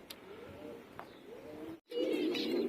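Pigeons cooing in the early morning, soft repeated low coos at close range with a brief gap, then a fuller burst of cooing, no talking.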